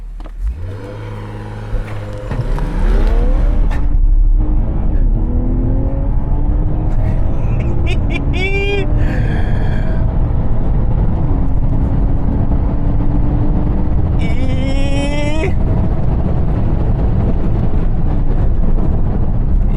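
A new Toyota Supra launched hard with traction control off, its engine revving loud and close, then pulling through rising gear sweeps with sharp upshift breaks as it accelerates, steady roaring under the whole run.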